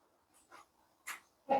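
A fifteen-year-old half-blind, half-deaf dog lets out a few short, soft yelps and whimpers, four quick bursts rising in strength, the last the loudest, close by in an otherwise quiet room.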